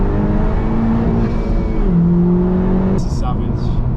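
Inside a Honda Civic Type R FK2 with the window lowered, the engine and intake drone steadily under acceleration. The pitch drops briefly, as at a gear change, before pulling on, close and loud.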